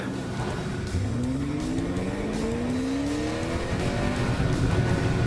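A 6th gen Chevrolet Camaro fitted with BMR parts drives hard, its engine note climbing steadily through rising revs under loud, continuous road and exhaust roar with no talk.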